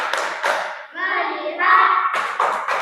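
Students in a classroom training session in Aceh perform a rhythmic focus clapping routine, with sharp patterned hand claps at the start and end framing a stretch of children's voices chanting in unison.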